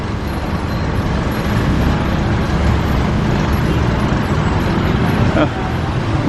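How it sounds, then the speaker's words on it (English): Dense, steady street traffic fills a jammed side street, Soi 22 in Bangkok, with idling and rolling cars, buses and trucks close by and a brief air-brake hiss near the end. "A little bit of a traffic jam"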